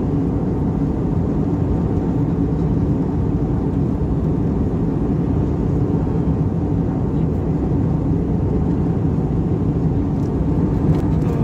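A loud, steady low roar of an airplane cabin in flight from Goa to Kolkata continues without a break, the plane shaking.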